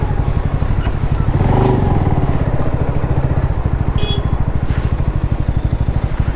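A motorcycle engine runs steadily and loudly up close with a rapid, even pulse, and brief faint clatters sound over it.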